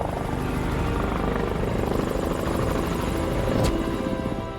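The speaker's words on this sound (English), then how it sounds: "I heard the helicopters come back. It was so loud, I knew they were so close." Helicopters fly close overhead, a loud continuous rotor thumping and engine drone that stays steady throughout with no voices.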